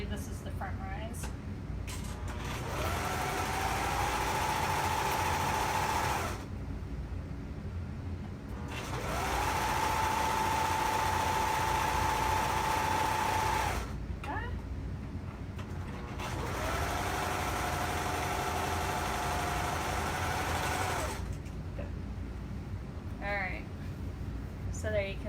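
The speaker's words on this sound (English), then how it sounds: "now I'm sewing, I believe this is the front rise" A sewing machine stitching the front rise of track pants, running in three steady whirring bursts of several seconds each with short pauses between, under continuous talk.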